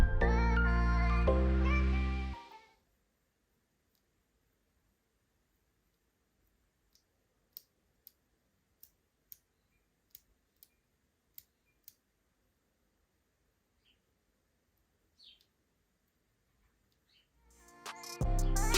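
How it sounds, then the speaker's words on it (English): A few isolated clicks from tactile Cherry MX blue keyboard switches tap out at uneven intervals in near silence, framed by louder tonal music at the start and end. "they not only have feedback but also have a clicking sound that occurs when a key is registered"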